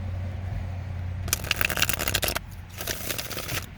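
Two quick bursts of playing cards being riffle-shuffled close up, crisp rapid flutters over a low engine-like hum, no talking.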